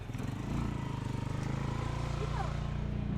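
A motorcycle engine putters steadily close by on a street near a market in Lopez, Quezon, its rapid, even pulsing running throughout under faint background voices.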